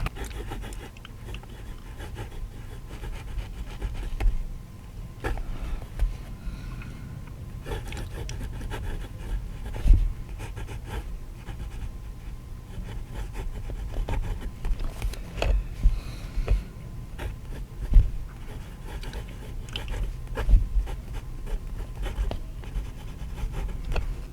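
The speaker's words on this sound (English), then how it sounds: "The nib writes fine." A Natami fountain pen nib scratches across paper in soft, irregular strokes, faint and close, with occasional small taps and rustles between the writing movements.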